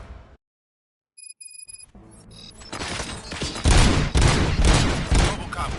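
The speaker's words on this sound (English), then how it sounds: "Gunshots?" Gunfire in the video game RoboCop: Rogue City: after a brief silence and some electronic beeps, a rapid, building fusillade of shots grows loud and dense, sustained to the end.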